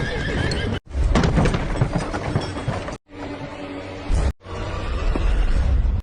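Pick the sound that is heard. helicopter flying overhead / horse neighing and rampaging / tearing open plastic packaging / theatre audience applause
horse neighing and rampaging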